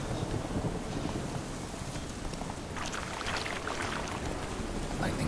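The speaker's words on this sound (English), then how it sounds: "Lightning strike." A storm rumbles in The Witcher 3 as a lightning strike sets a castle ablaze, with low rolling thunder under steady rain noise and a brighter crackling burst partway through, fairly distant and subdued.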